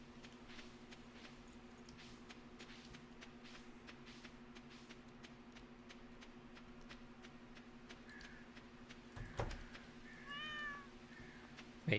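A cat meows in the Stardew Valley farming game, a few short faint calls near the end over a steady low hum and soft background game sounds.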